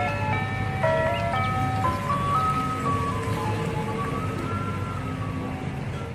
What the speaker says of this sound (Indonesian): ini adalah mobil es krim